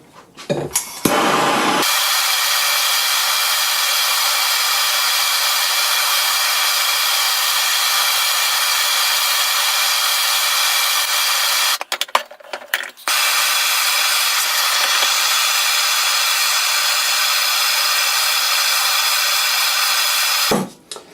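A heat gun blowing on a Porsche Boxster suspension bush, a loud constant roar that cuts out briefly near the start and again midway, then resumes.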